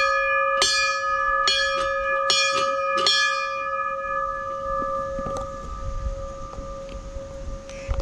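Several bell strikes at Anusuya Mata temple, ringing out clearly in the first few seconds with long harmonic tones sustaining after, fading into quieter ambient background with a few faint later strikes.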